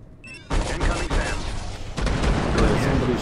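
Gunfire in Watchfire Drone Shadow Strike: a dense, loud fusillade of rapid shots and booms bursting in after a short whine, continuing as heavy overlapping fire, with a voice speaking underneath.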